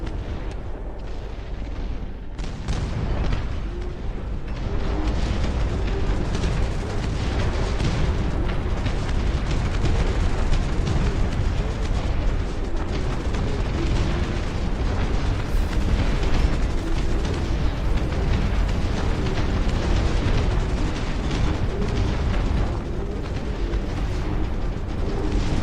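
Dust Front RTS napalm strike: a continuous roar of heavy explosions and booming blasts rumbles on for the whole stretch, dense and loud with crackling bursts layered over a deep low rumble.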